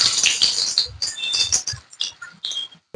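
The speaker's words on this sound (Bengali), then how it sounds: "আমি এই ছানার বড়াগুলো ভেজে নেব।" Chhana fritters fry in hot oil in a kadai, giving close, irregular bursts of crackling and spitting sizzle.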